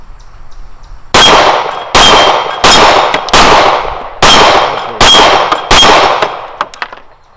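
An STI Staccato XC pistol fitted with a Leupold DeltaPoint Pro fires at a steel target 12 yards off: seven loud, evenly spaced shots, each with a sharp ringing clang that decays before the next.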